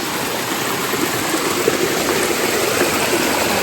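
A small river stream on a hiking trail near a waterfall flows with a steady, broadband rush of water, close and continuous, with no voices.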